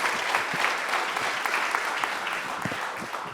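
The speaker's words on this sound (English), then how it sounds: "let's have a huge round of applause" An audience claps steadily, a dense crackle of many hands that keeps going at an even level from start to finish.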